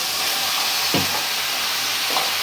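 Cut taro pieces dropped into spice paste frying in a pan, giving a steady broad sizzle with a couple of brief stirring scrapes, close and continuous without talk.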